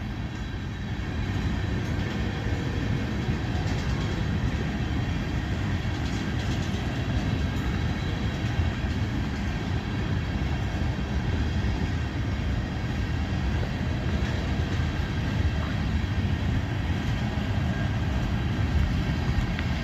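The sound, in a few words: freight train passing, CSX 1900 Seaboard Air Line heritage unit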